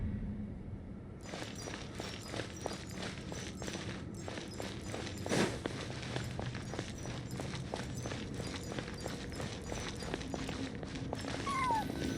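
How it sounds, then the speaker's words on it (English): A cat meows faintly a couple of times in Genshin Impact over steady, rhythmic footsteps and quiet game ambience, with no talking. "I followed the cat's cries to find my way out"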